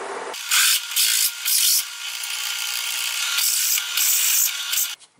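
A drill bores a hole in sheet metal on a homemade punch rig built from an intake valve, grinding in several loud bursts with a steadier stretch in the middle before stopping.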